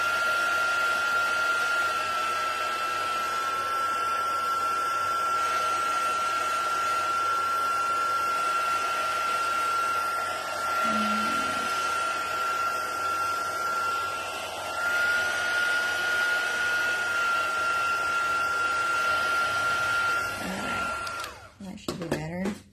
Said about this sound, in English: I'm going to turn my heat gun on and dry that ink a little bit